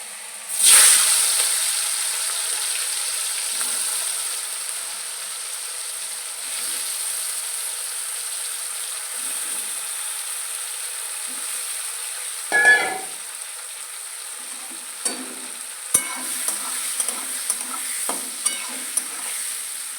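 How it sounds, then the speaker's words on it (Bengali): Fish frying in a pan, a bright continuous sizzle that flares loudly as the fish goes in, then holds steady while a few utensil scrapes and clicks sound nearby. "মাছটা ভেজে নিব এবার"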